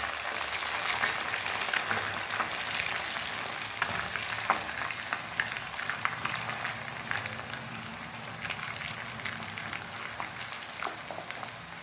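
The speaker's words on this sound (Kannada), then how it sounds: "ಈಗ ನಾವು ನೂಡಲ್ಸನ್ನು ಫ್ರೈ ಮಾಡ್ಕೊಳ್ಬೇಕು." Noodles deep frying in hot oil for Indian-style Chinese bhel, a steady dense crackling sizzle with brief bursts of popping, close and continuous with no talking.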